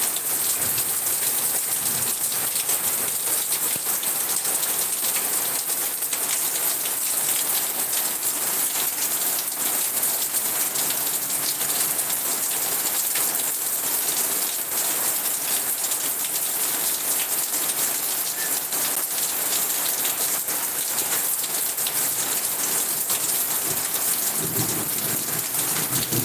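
Steady heavy rain pours down through a morning downpour, an even dense hiss across the whole stretch with occasional low rumbles of thunder in the background; no voices.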